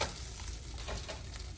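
A leftover meatloaf slice sears in a skillet without added grease, giving a steady, close sizzle and crackle that holds evenly throughout with no talking.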